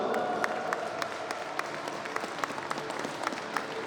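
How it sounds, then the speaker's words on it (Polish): Steady applause from a crowd at an awards ceremony closing a youth football tournament, many hands clapping in a continuous patter with a few sharper claps standing out, moderately loud and alone. "Jeszcze raz wielkie brawa."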